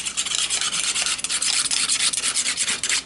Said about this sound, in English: I am going to sharpen it just a little bit sharper right now,